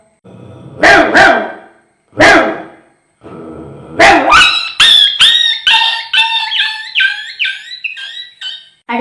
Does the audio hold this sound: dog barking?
yes